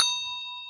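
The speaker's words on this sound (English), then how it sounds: "if you hit the notification bell" A bright notification bell ding rings once, a clean metallic tone that decays slowly, heard alone in a short burst.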